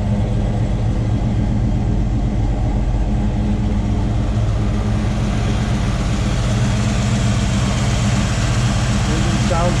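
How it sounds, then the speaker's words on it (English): A 1965 Ford Mustang GT Fastback with a restored V8 idles steadily with a deep, even rumble that holds at a constant level throughout. A voice carries on over the engine. "Engine sounds strong. No knocks or ticks that you can hear."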